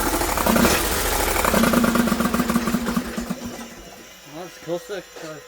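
Briggs & Stratton 20HP V-twin engine on a Bolens 1600H tractor running loud and close with a fast rattling throb that fades out, followed by someone speaking.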